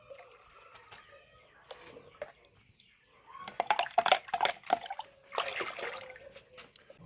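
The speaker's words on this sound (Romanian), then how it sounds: "După ce am dizolvat bine această drojdie, o vom pune peste 10 litri de apă." Dissolved yeast solution poured into about 10 liters of water, soft trickling and splashing that starts faint and grows louder in bursts toward the end, with a voice speaking faintly at times.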